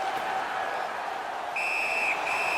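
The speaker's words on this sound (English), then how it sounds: "And the referee's whistle has stopped play." In the NHL 19 hockey video game, a referee's sharp whistle stops play, sounding as two shrill blasts over a steady arena crowd roar, the first long and the second starting just after.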